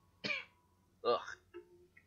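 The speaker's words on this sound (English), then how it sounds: "That was a cough." A person coughs with mucus in the throat: a sharp throat-clearing burst, then a second, louder cough about a second later and a short rough trailing sound, all close and alone.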